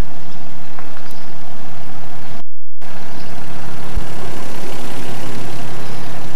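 Toyota Soarer 7M-GTEU engine idling during a radiator coolant flush with the heater on max, a steady low rumble that cuts out briefly and then resumes, loud and close.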